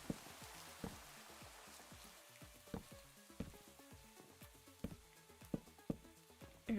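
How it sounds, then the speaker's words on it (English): Rain falling in the Minecraft video game, a steady soft patter of drops with scattered louder taps and crackles throughout, fairly quiet and continuous with no talking. "And it's raining again."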